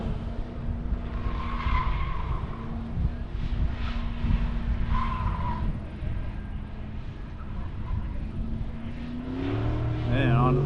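An autocross car's engine roars and revs hard on throttle, rising in pitch toward the end as it accelerates on a course with dirt sections, with tire noise and a faint voice in the background.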